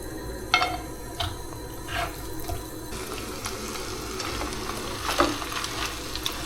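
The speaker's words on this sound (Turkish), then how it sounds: "Kuşları burada biraz mühürleyeceğiz." Woodpigeons sear in butter in a pan beside sauced potatoes and onions, giving a steady sizzling hiss with occasional pops and stirring knocks at moderate volume.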